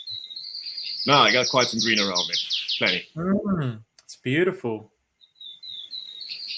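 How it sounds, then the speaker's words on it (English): Birds chirp and insects trill in a green outdoor setting in Colombia, a steady high twitter running faintly behind someone talking up close, with brief gaps in his speech letting the calls through. "you can hear all the birds and everything happening in the background."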